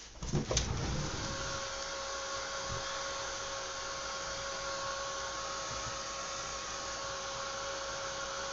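A hair dryer blows steadily on a decorated journal page, a constant whirring hum with a thin high whine that runs unbroken after a few brief knocks at the start.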